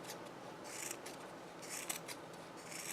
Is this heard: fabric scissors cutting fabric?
yes